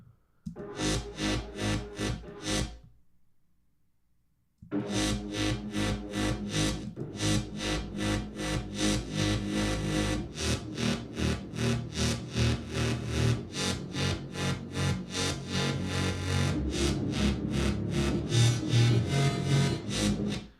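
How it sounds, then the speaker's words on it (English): Heavily distorted, buzzy bass music plays loudly with a steady pulsing rhythm, cutting out briefly before resuming. "Why does that distortion sound so light?"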